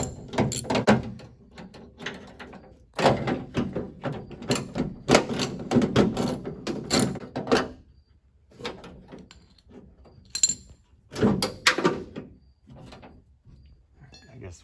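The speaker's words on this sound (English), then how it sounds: "Now we're gonna go through and take out the 7/16 bolts and remove the actual handle." A ratchet or wrench works 7/16 bolts loose from the door handle of a 1967-1972 Chevy truck, giving bursts of metallic clicking and scraping with short pauses between them. The sound is close up and no one speaks.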